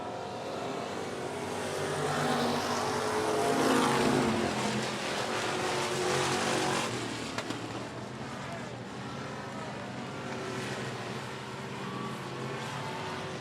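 Race cars roar around the 105 Speedway track during a regular race program, a loud, continuous wash of engine noise that swells and slowly recedes as the pack passes.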